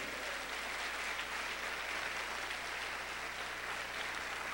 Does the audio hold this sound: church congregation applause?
yes